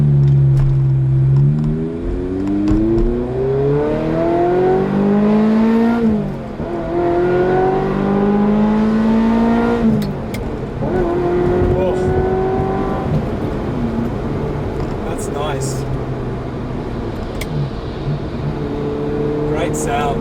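A 1997 Ferrari F355 GTS V8 engine revs up repeatedly, its pitch climbing and falling in strong sweeps, loud and close, with brief pauses between pulls.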